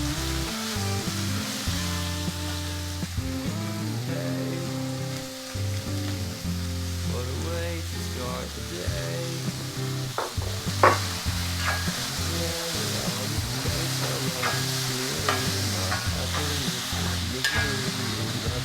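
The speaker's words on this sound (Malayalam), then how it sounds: "സവാള നന്നായി ഇളക്കി കൊടുക്കാം." Sliced onions sizzle steadily in a hot frying pan after browned garlic and ginger, for a mushroom roast, with repeated scraping and clinking of a spoon as they are stirred, close and continuous.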